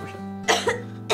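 A woman coughs indoors, giving a few short, close, harsh coughs in quick succession after a brief hum of background tone.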